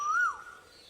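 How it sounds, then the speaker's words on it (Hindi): Asian koel cooing, a single clear rising-and-falling whistled note, brief and fairly faint, heard alone. "ये है कोयल। कोयल कूक रही है।"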